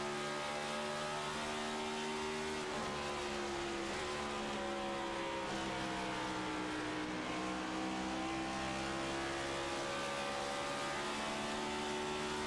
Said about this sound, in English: what a drive it's been for Benson in his 213 Simware Camaro